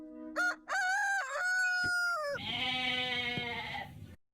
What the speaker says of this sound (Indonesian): Itu suara kambing sama ayam lagi duet.